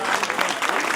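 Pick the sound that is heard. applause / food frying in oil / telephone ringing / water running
applause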